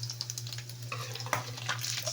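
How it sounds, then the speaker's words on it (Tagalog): Ham sizzles steadily in hot cooking oil in a home kitchen for a breakfast meal, with soft crackles and a stir or scrape of the pan, close and moderately quiet with no talking. "Ganun pa rin ang mantika sa ham pagprito."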